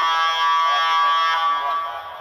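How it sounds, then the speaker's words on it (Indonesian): A basketball timeout buzzer sounds at a women's PON XX Papua 2021 game between Central Java and West Java, a loud steady electronic tone held for about two seconds with no pauses. "Time out buzzer sudah berakhir."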